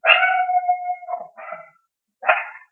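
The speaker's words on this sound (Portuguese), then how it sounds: "esse é o meu cachorrinho" A small dog barks alone in a quiet room: a long drawn-out yelp followed by two shorter barks and, after a brief pause, one more sharp bark, all close and clear.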